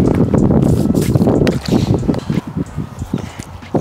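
Gusty wind buffets the microphone outdoors, a broad low roar that rises and dips, with faint rustling and movement underneath.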